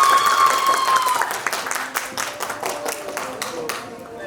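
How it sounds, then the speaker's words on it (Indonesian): Audience applause for a team in a school quiz competition semifinal, a dense burst of clapping that starts loud and thins out over a few seconds, with a voice talking briefly at the start. "Tepuk tangan untuk tim C."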